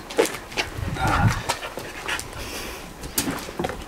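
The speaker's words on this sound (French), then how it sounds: "C'est pas le même chien que tout à l'heure" A dog on a walk in Madeira pants and snuffles in short irregular bursts close by, with faint whimpers and outdoor ambience.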